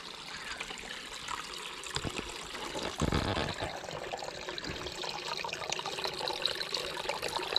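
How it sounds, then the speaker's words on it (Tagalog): Water flows and trickles steadily with a soft, continuous rushing, moderately faint, without any voices. "tubig maraming water pa rin po oh"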